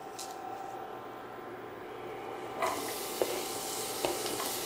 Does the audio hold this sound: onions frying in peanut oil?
yes